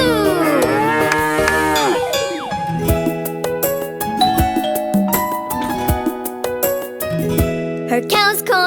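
A cartoon cow in a children's farm nursery rhyme gives long sung moos over a bright musical backing with chiming bell-like notes, loud and upfront, repeating through the passage.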